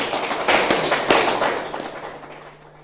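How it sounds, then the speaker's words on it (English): A studio audience at an economic dialogue TV event gives a short, scattered round of applause, a few sharp claps that thin out and fade within a few seconds. "I thought you were going to give him a proper round of applause."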